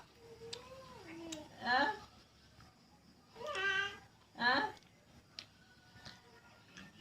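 A cat gives several short, high kitten-like meows, close by and moderately loud, with quiet gaps between calls and people talking softly around it.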